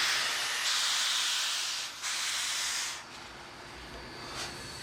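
Steam locomotive JB 1236 lets out a strong, close steam hiss in long bursts that break off and restart, then fades to a softer hiss.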